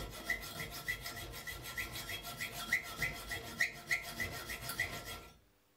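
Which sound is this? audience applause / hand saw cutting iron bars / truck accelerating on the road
hand saw cutting iron bars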